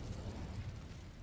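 Incendio fire spell cast in Hogwarts Legacy, a brief, faint, low whooshing burst of flame rumbling for about a second.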